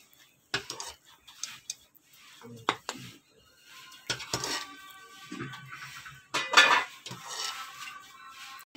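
Strawberry custard flavoured with apple is served out of a pot, with spoon scrapes and light clinks of dishes and utensils in irregular bursts, close and moderately loud.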